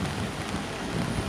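Rain falling over the Hagley Park Road works site, where freshly dug marl was being compacted; a brief, steady broadband patter with no voices.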